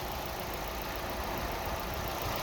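A 2020 Fiat Tipo 1.4 90 hp engine running on LPG idles steadily at close range, a continuous even rumble with no voices.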